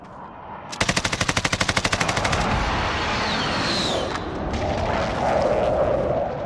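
Gunfire in Call of Duty on the Quarry map: a loud, rapid automatic burst rattles for nearly two seconds, followed by continued noisy battle ambience.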